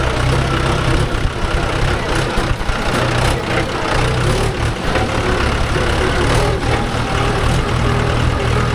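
A Mahindra 575 DI tractor engine runs loudly and steadily in farmland while pulling a cultivator, a deep continuous diesel rumble close by with slight rises in throttle.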